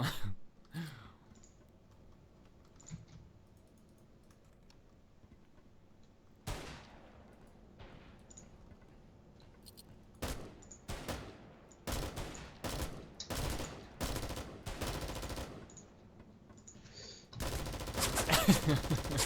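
Gunfire from weapons aimed at a creature in the survival game Pantropy: quiet stretches give way to a single shot, then a rapid burst of sharp cracks grouped in quick volleys, ending in a loud sustained blast of noise. No one speaks.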